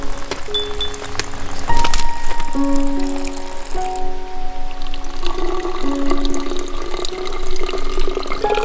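Water runs from a mountain well on Mt. Ryokami in a continuous trickling splash, close and fairly loud. Bright ringing drips sound over the flow.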